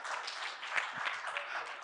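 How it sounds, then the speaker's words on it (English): An audience applauds together, a steady wash of clapping hands that carries on without a break for a couple of seconds at moderate loudness. "Can you clap for yourselves?"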